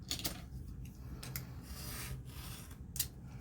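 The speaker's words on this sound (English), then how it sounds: "I'm just going to trim this card off at the bottom." Card stock being trimmed with a paper trimmer, a soft rasping slide with a few sharper scraping strokes, close and fairly quiet.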